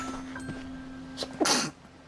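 A single sharp sneeze bursts out near the end during a VTuber's live stream, preceded by a quiet breath and faint background tones, with no talking.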